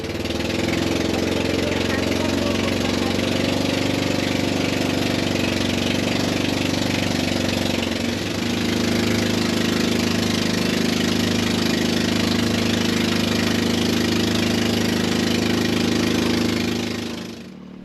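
A tour boat's motor runs steadily at a low, droning pitch for the whole stretch, loud and close, with a brief dip in level partway through before it settles back to the same even hum.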